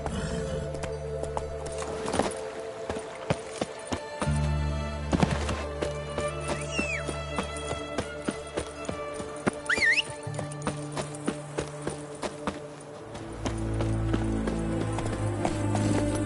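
Roach the horse gallops in The Witcher 3 with steady, rhythmic hoofbeats and a whinny or two, all over orchestral game music.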